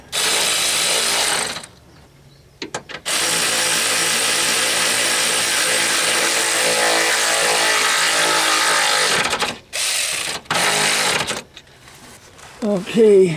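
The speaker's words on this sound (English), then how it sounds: "torquing this down to 43 foot-pounds" A torque wrench tightens the stabilizer bar link bolts on a 1998 Corvette C5, giving loud, close mechanical ratcheting in long sustained runs broken by brief pauses, and a person speaks briefly.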